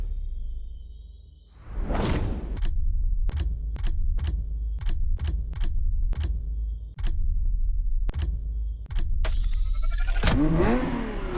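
A Ferrari F50 engine in the racing game The Crew Motorfest: a loud whoosh of a car passing, then a string of sharp rhythmic revving bursts and gear-shift clicks, ending in a bright high-pitched surge of acceleration.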